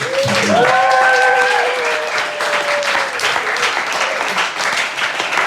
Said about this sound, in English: Can we have a big round of applause for it?